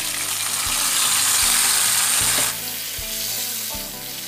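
White mustard ground with green chilies, added as a paste to a hot pan for a fish curry, sizzles loudly and steadily, with the hiss dropping slightly midway as the frying settles under soft utensil clatter.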